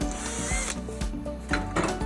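Electric drill boring holes through the top of spoon sinkers, both sides, in short bursts of whirring with brief pauses between, close and fairly loud.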